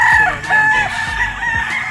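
A gamefarm rooster crows once, close and loud, a short raspy call with a drawn-out tail, and faint farm noise behind it.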